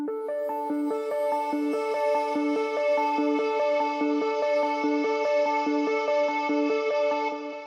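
Two layered synthesizer arpeggios in Logic Pro X pulse in a steady, rapid repeating pattern of bright plucked notes, continuous and even.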